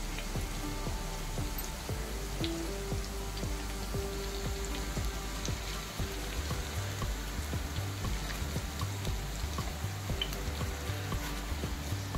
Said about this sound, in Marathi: आता आपण ही एक एक तेलात सोडणार आहोत।